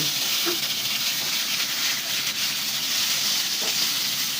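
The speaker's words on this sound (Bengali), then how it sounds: "এই তেলের মধ্যে আবার আমি বেগুনগুলো ভেজে নিব" Eggplant pieces fry in hot oil left over from frying eggs, making a constant loud hiss and sizzle that stays even throughout.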